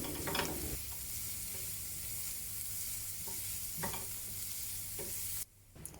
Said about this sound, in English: continue to saute over low to medium heat for about 3 to 4 minutes until the onions start to turn soft